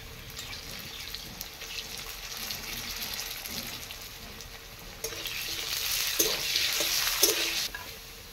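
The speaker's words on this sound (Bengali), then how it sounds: "আলুগুলো দিয়ে দিলাম, আলুগুলো ভেজে নেব।" Potato pieces frying in oil in a home kitchen, a continuous close sizzle that swells louder in the second half with scattered pops and stirring, no voices.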